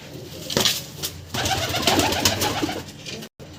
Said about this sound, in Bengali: পায়রাগুলো আবার দেখিয়ে দিচ্ছি ভালো করে, দেখে নিন।